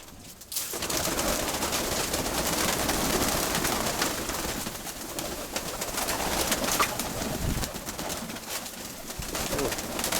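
Dense, continuous cooing and rustling from many pigeons fills the space at close range, with no pauses.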